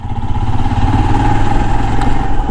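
A Royal Enfield Himalayan 411 motorcycle accelerates from about 1,500 rpm, giving a loud, steady, close single-cylinder engine drone with a low thumping rumble throughout and no speech.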